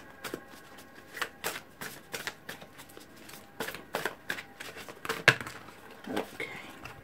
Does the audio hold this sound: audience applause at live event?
no